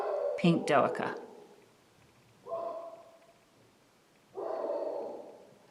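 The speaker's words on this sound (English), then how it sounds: "Sorry about my dogs, somebody must be here." Household dogs bark in three separate bursts indoors, a sharp close volley first and then two muffled, more distant rounds, with a person speaking briefly at the start.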